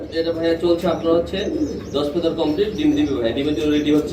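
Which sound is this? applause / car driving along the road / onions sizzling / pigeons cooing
pigeons cooing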